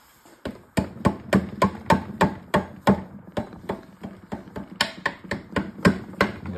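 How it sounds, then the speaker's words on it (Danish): A rubber mallet pounds steadily in a workshop during a winter build project, around two dozen sharp, close, evenly paced blows with no speech. "Gummihammer."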